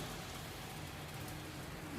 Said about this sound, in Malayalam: ഇനി മിക്സി കഴുകിയ വെള്ളം നമുക്ക് ഒഴിച്ചു കൊടുക്കാം.